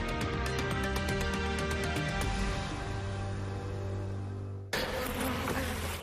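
Honeybees at a beehive buzz steadily up close, a dense, continuous insect drone with a layered hum that shifts in tone toward the end.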